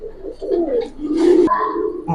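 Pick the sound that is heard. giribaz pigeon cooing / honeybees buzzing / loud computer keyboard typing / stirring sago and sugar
giribaz pigeon cooing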